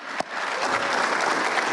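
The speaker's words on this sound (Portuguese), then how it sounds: "Palmas para o ministro Fux" Applause for minister Fux at a session, a dense steady clapping from the crowd that holds throughout, with no voices over it.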